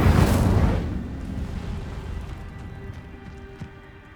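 Incendio fire spell cast in Hogwarts Legacy erupts in a loud, roaring burst of flame that quickly fades into a low crackling rumble with scattered small pops.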